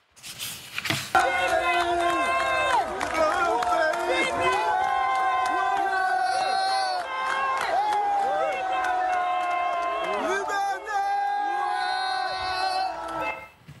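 A street crowd in Gabon during a putsch chants in unison, with repeated rising and falling shouts, scattered cheers and a few whistles over a steady rumble of many voices, fairly close and continuous.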